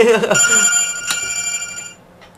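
A telephone rings with a loud, bright electronic bell tone, a sustained ring that fades out after about two seconds, with a voice speaking briefly over the start.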